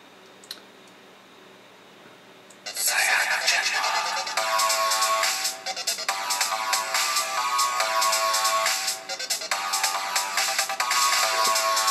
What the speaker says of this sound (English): that's your default ringtone.